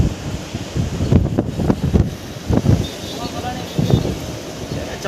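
Strong wind during a rainstorm gusts and buffets the microphone in uneven rumbling bursts, with a person talking over the roar.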